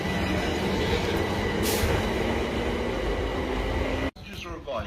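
A train rumbles through a station on the Brighton Main Line with a steady rolling roar and a brief metallic squeal. The noise cuts off abruptly near the end, followed by quieter sound and faint talking.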